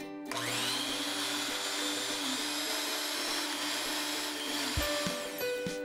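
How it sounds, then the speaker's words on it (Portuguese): An electric stand mixer beats passion fruit ice cream at medium speed, a steady close whirring motor hum with a high whine, running throughout with a slight shift near the end. "Então aqui eu vou bater na batedeira na velocidade média até dobrar de volume."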